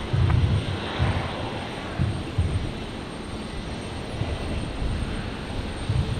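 A Dash 8 turboprop airliner taxiing in after landing on runway 19 right at Brisbane Airport, a steady low engine rumble with broad noise, fairly near and continuous, with a few louder low swells and no talk.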